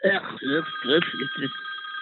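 A telephone rings on a live radio talk show, its electronic bell tones repeating in quick bursts while people talk over it in the studio.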